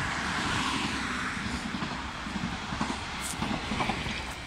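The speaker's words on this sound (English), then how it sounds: "There's a train." A train passing near a Japanese beach, a broad, steady low rumble and rolling rush of rail noise that holds for several seconds, moderately distant, with faint clatter near the end.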